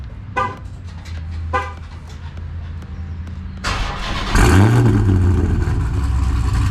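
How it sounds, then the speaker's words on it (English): A Chrysler 300 with a Hellephant engine is cold-started: quiet surroundings with a few faint noises, then a sudden loud crank and catch that swells into a deep, roaring rev before settling into a heavy, rumbling idle close by. "Let's give her a cold start."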